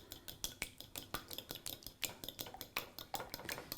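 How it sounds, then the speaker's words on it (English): Two eggs whisked in a bowl for fried rice, giving rapid, rhythmic clinks and taps of the utensil against the bowl, close and fairly quiet, with no talking. "So we're going to do both eggs like that. And we're just going to whisk them up"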